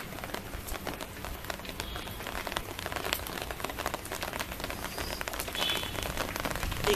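Light drizzle pattering steadily onto a camera lens and an umbrella held overhead outdoors, a dense continuous spray of small close taps and hiss with no voices.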